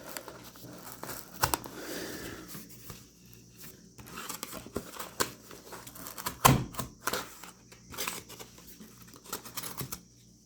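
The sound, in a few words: folding knife making a downward cut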